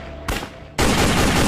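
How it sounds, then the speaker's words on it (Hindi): Gunfire in a crime dramatization: a sharp loud shot cracks out, fades briefly, then a second, louder burst hits and rings on as a sustained roar to the end, with no voices heard. "सुशील, गोली चल जाएगी।"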